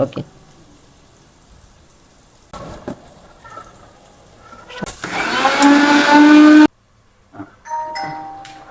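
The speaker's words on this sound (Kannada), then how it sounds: "ಮೊಸರು ಹಾಕಿ ಗ್ರೈಂಡ್ ಮಾಡಿ" A mixer grinder blends green chillies, garlic, ginger and curd in a loud whirring burst of a couple of seconds that stops abruptly, with quieter handling noises and a voice before and after.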